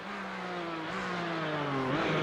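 Race car engine in a sim racing video game, a loud steady whine holding high revs and shifting through gear changes with brief pitch drops, continuous and close with no talk.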